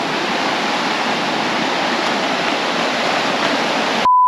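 A river flows with a steady, broadband rush of water, loud and continuous, with no talking, ending abruptly in a faint tone.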